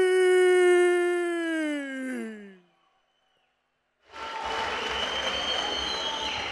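Crowd applause at a MAX FIGHT 52 K1 kickboxing event, 65 kg bout, a broad wash of clapping that rises after a drawn-out Bulgarian announcer's voice and a brief silence, filling the final seconds.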